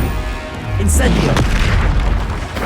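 Incendio, the fire spell in Hogwarts Legacy, is cast with a loud booming whoosh that swells in the middle, set against ongoing game noise.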